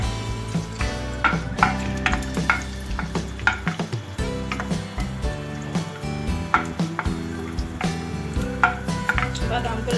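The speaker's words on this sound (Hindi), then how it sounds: "बादाम को लाइट ब्राउन होने तक हम फ्राई कर लेंगे।" Almonds fry in a little oil in a frying pan, a steady sizzle with frequent stirring and scraping clatters against the pan, loud and close throughout.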